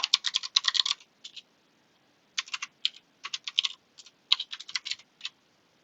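Close, crisp keystrokes on a computer keyboard as code is typed into MATLAB. They come in quick irregular bursts separated by short pauses, heard alone without talk.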